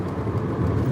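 Modified Chevrolet S10 drift truck with a hopped-up 2.2-liter four-cylinder engine, a steady low rumble heard from inside the cab while cruising, even and continuous with no voices.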